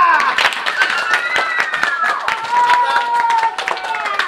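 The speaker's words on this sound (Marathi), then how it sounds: "लाल लाल टाळ्या." A village audience claps to honour a young man being felicitated by the sarpanch in a Marathi rural comedy episode. The claps are dense, rapid and close, with voices calling out over them.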